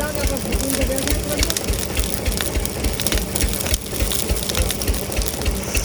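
A fire lit for a ritual offering, burning strongly with a loud, steady roar and dense crackling, close by and continuous throughout.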